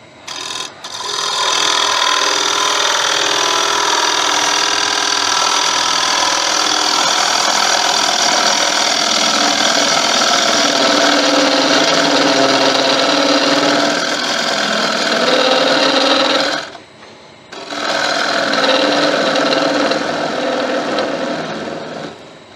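A wood lathe spins steadily while a tool hollows out a wooden bowl, a loud continuous whirring drone with a scraping edge, broken by a brief stop near the end before it resumes.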